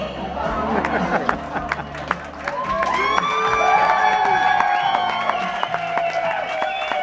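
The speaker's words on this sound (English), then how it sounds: "Round of applause for Casey" An audience cheers, shouts and claps loudly after a live performance of a song, a dense crowd roar with whoops and whistles sustained throughout.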